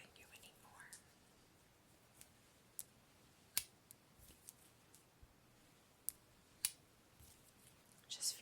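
Scissors snip softly in a quiet, intimate ASMR setting, scattered sharp clicks spaced irregularly over low whispering.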